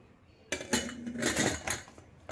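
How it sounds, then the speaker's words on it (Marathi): A metal pressure cooker lid is set and fitted over a vessel of raw mangoes, giving a close series of clanks and scraping clinks that last about two seconds, with no talking. "झाकण लावून घ्यायचं कुकरचं झाकण लावून घेतलंय"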